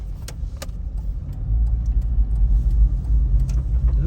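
Road traffic heard from inside a moving Toyota Land Cruiser: a steady low engine and tyre rumble that swells midway, with a few faint clicks and light rattles near the cabin, and no voices.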